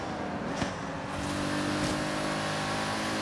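A turbocharged supercar engine in the racing game Forza Horizon 3 drones steadily with a rising turbo whine and faint whooshing, loud and continuous throughout.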